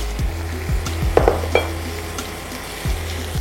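Ground chili and cumin powders fry in a pan, a close, steady sizzle under repeated spatula scrapes and taps against the pan at an uneven pace, with no voices.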